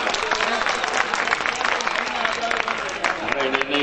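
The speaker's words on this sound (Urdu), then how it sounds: "جناب منور رانا کا زوردار تالیوں سے استقبال۔" Loud applause from an audience greets the poet Munawwar Rana at a mushaira poetry gathering in Amroha, a dense, continuous clatter of many hands that fills the hall.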